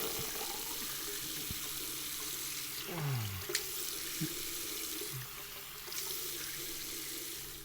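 Tap water runs steadily into a sink while someone rinses off after a wet shave, a continuous close hiss with a few small splashes and shifts in the flow and no talking.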